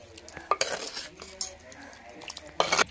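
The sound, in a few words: stirring chicken handi in a pot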